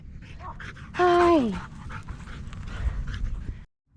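Tadow the dog pants and gives a rising-falling whimper close by on a road trip stop, with a person's brief voice and background chatter underneath.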